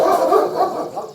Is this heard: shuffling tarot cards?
no